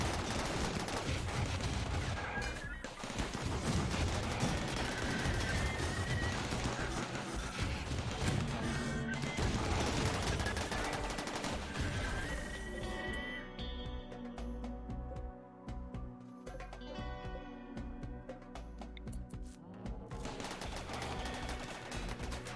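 Auto turrets in RimWorld fire at mechs in a dense, continuous stream of rapid gunfire and impacts, loud and unbroken throughout with game effects layered over it.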